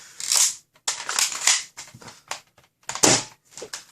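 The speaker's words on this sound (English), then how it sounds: "Let's shoot a few rounds through the chronograph." A modded X-Shot Excel Hawkeye toy blaster fitted with a brass barrel fires several sharp, close snapping shots in uneven succession, each a bright spring-and-plunger crack with short gaps between, and no talking.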